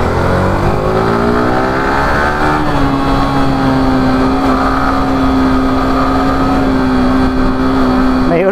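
Motorcycles street racing through the city, with a loud close engine droning and rising in pitch as it revs and accelerates, a steady whine sustained under wind and traffic noise.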